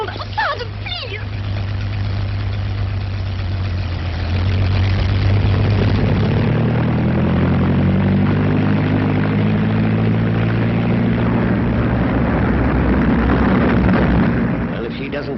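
Propeller airplanes, 1930s-era, start up and take off, their engines building to a sustained heavy drone with rising and falling tones, loud and continuous throughout.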